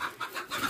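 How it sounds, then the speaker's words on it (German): Two chickens cluck as they return to their coop, with a quick series of short, fairly close clucks in an uneven rhythm and no talking. "Zwei Hühner, wo wart ihr?"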